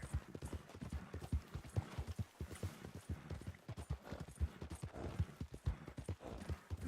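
Rapid, close hoofbeats of a horse in Red Dead Redemption 2 clip-clopping at a quick gait, continuous and rhythmic with no voices.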